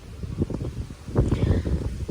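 A cool wind blows outdoors while grass is pulled by hand, making a gusty low rumble that buffets the microphone. It swells and fades in uneven surges with no talking.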